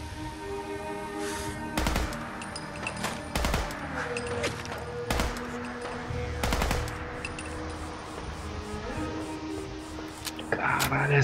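Weapon fire in Fallout 4 at Nuka-World's Bradberton overpass, several loud sharp shots spaced irregularly over a droning game background, with a voice murmuring quietly.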